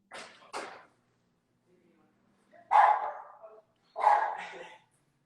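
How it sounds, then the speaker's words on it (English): Dogs barking indoors, a pair of quick barks followed after a pause by two louder, longer barks, close and otherwise quiet. "We have some dogs too, so they're gonna be joining us also."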